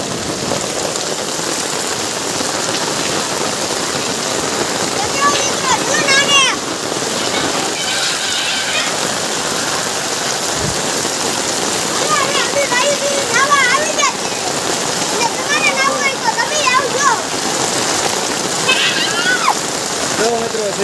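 Steady rain hisses throughout, with a few faint bird chirps and occasional distant voices mixed into the wash.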